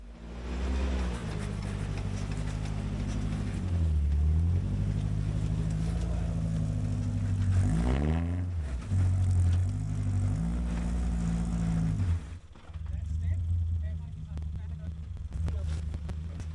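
A 4WD vehicle's engine works while crawling over rocks on a technical track on Newnes Plateau, a low idle and rumble that rises and falls with short revs, with people talking over it.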